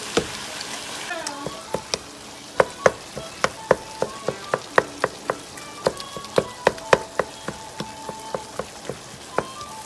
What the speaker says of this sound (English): Now I'm gonna add in a pound of ground beef. And we're going to cook this down.